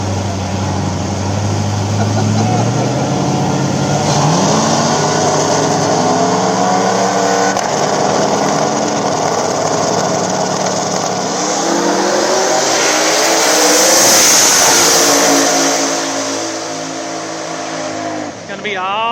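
A turbo S10 pickup truck runs at a small-tire drag racing event, its engine roaring loud and revving up through the gears, with a further rising surge near the end and voices heard over the noise.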